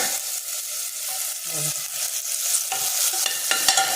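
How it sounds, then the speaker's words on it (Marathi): Chana curry ingredients being roasted in a pan, with steady sizzling and frying hiss broken by scraping stirring strokes, close and fairly loud with no talking. "आता व्यवस्थित थोडं भाजून घ्यायचं"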